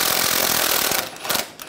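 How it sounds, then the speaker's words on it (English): Power tool, likely an impact wrench, spinning a nut off with a 19 mm socket on the front suspension of a 2004–2009 Toyota Prius; a loud, close, rattling whir with rapid hammering pulses that eases off near the end. "Using a 19 millimeter socket, take the nut off."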